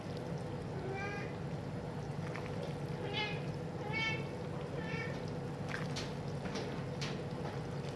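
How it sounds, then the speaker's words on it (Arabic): A cat meows several times, in short rising calls, at moderate distance over a steady kitchen background hum. Faint voices are heard near the end. "معلش يا حبايبي دول القط بتاع ولادي"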